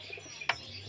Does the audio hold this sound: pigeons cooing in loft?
yes